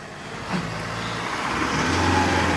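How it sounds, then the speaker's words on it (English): An off-road pickup, either a Ford Ranger Raptor or Toyota HiLux Rugged X, revving hard while its wheels spin on a steep climb with traction control working, a loud close engine roar rising and holding steady. "As you can see, this thing's spinning wheels plenty. That traction control is working hard."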